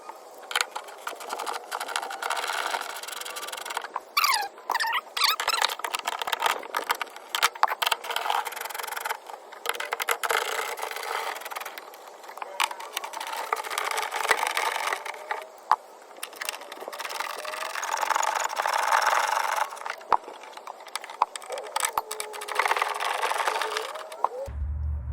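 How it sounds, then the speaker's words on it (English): Working 9mm bolts out of a 1993 Ford Mustang Cobra tail light assembly, likely with a powered driver: a long stretch of whirring, buzzing bursts with ratcheting and scraping, starting and stopping irregularly, close and fairly loud. "next we've got 6 9mm bolts in here we got to take out"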